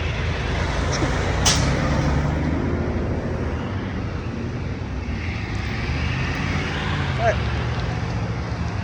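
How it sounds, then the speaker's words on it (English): Trucks drive past on a road close by, their engines making a heavy, continuous rumbling roar with a sharp hiss early on and passing swells of traffic noise. "there's a bunch of trucks driving next to me"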